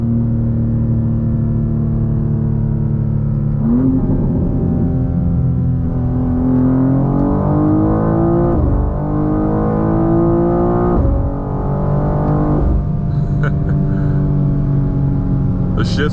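A 2024 BMW M2 accelerating hard from about 60, its engine note climbing steadily through the revs with quick, aggressive upshifts dropping the pitch each time, loud and close from inside the car.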